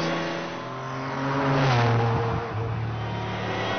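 A Ferrari Enzo or McLaren F1 engine revs up with a rising, throaty roar that peaks and then settles into a steady drone, heard close with no talking.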